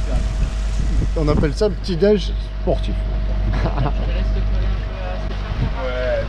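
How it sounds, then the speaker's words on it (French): Sailboat in heavy swell and 30-knot wind, a steady low rumble of wind and water with clattering beneath, while people talk over it in the cabin. "préparation du petit-déj par forte houle et 30 nœuds de vent"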